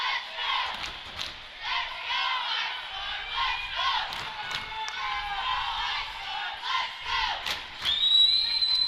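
Ice Storm fans cheer and shout at a girls' U16 hockey championship game in a rink, a steady roar of crowd voices with rising yells and a few thumps near the end.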